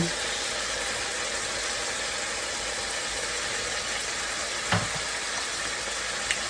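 A beef steak sears in a hot pan for beef stroganoff, giving a steady, dense sizzle and crackle throughout, with a brief louder pop near the end.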